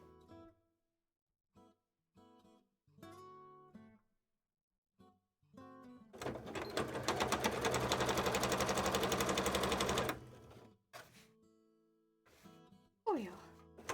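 A domestic sewing machine doing a back stitch while scales are being made, whirring steadily for about four seconds in the middle, with short halting bursts and handling clicks around it.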